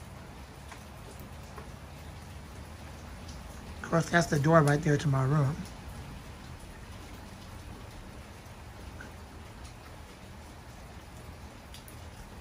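Heavy rain falls steadily outdoors near a building doorway, a constant wash of drops throughout, with someone speaking briefly partway through.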